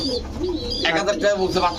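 Pigeons cooing at a pigeon sale with racer, Danish and Lahori breeds, soft low coos close by mixed with background voices and chatter.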